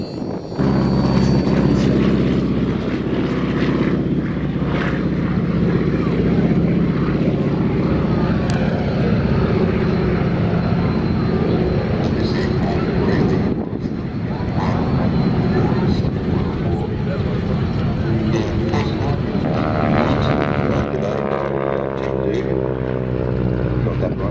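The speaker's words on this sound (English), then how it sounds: "Make sure you get your photo of this aircraft." A propeller aircraft, an advanced trainer once flown by the Americans, drones loudly and steadily with its engine at the Wings over Illawarra 2016 airshow at Illawarra Regional Airport, while a commentator talks over it throughout.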